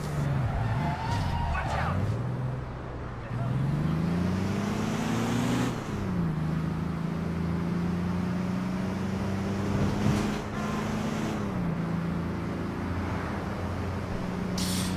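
Truck engine from the APB video game with a low, steady motor drone that rises and falls as it shifts, near and continuous throughout, with occasional skidding noise.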